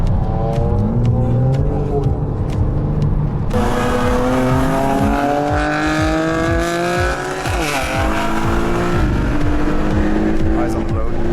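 BMW M4 and M2 Stage 2 cars launch in a drag run, loud engines revving and climbing through repeated gear changes with rising whine, tire noise and a voice talking over them.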